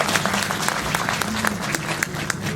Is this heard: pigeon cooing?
no